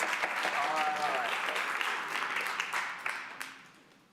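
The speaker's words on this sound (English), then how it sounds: "Applauding is disfavored in our rules, as you all know." A roomful of people at a city council meeting claps in a burst that gradually thins and fades, with voices talking over the applause toward the end.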